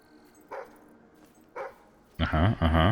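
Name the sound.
dog barking in video game Fable III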